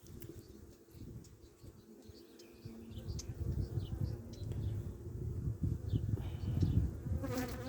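Honey bees buzz steadily around an opened split hive whose queen was not accepted, a dense low hum that swells slightly louder toward the end, with no voices.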